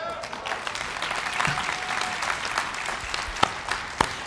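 Audience at a church relaunch event applauding a ministry leader, dense steady clapping from a crowd filling the room for several seconds, a few sharper individual claps standing out near the end.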